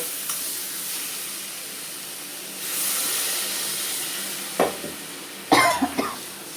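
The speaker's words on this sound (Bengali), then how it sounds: "আমি এখন জল দিয়ে দেব" Water poured into a simmering Bengali silver carp fish curry with potatoes, plantain and drumstick in a pan sets off a rising hiss of steam and sizzle, followed by a few close clattering knocks as the pan settles.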